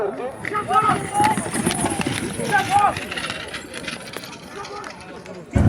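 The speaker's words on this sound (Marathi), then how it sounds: "चला तर मी दाखवतो तुम्हाला मुंगा आणि सैराजची गाडी।" A bullock cart race runs on an open ground, with bulls' hooves drumming in quick, uneven clip-clop bursts and a rattle underneath. Someone talks over the whole stretch, and a loud knock comes at the end.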